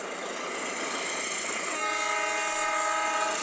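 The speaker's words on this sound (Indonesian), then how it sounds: "itu adalah suara kereta api" A train rumbles past at a steady roar, and partway through a loud, sustained horn sounds and continues to the end.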